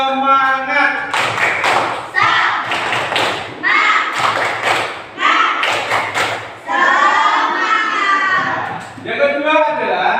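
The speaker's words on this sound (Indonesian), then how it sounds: "Tepuk semangat." Children in an Indonesian classroom do a rhythmic clap routine. Loud, close bursts of clapping come in patterned groups between lively chanted voices.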